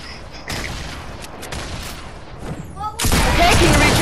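Gunfire cracks out in a Fortnite match, with a burst of shots early and a louder, denser volley of firing near the end, close and prominent.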